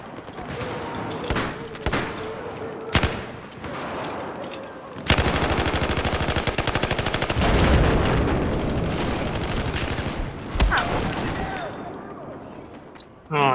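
A light machine gun fires in Battlefield 4, with single shots early on and then a long sustained burst of rapid, loud gunfire and a few later bursts, over faint game ambience.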